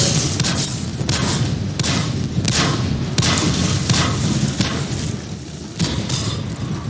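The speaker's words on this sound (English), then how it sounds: "Man, those guns are just awesome." Tank guns of a G.I. Joe Armadillo firing in rapid succession in World of Tanks on console, a dense, loud barrage of booming thuds and blasts repeating steadily over continuous rumbling battle noise.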